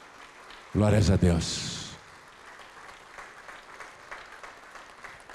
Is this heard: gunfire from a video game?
no